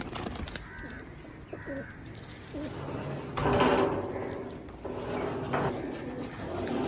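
Soft pigeon cooing comes and goes at a moderate distance over a steady background with a brief louder rush partway through.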